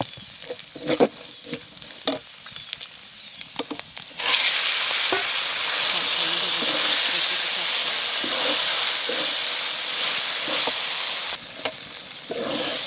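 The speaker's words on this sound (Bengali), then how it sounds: "কিছুক্ষণ নাড়াচাড়া দিয়ে এখন আমি সেই শাকটা আমি দিয়ে দেবো" Taro greens being stirred in a pan where black cumin seeds fry in hot oil: intermittent scraping stirs at first, then a loud, steady sizzle takes over from about four seconds on and continues to the end.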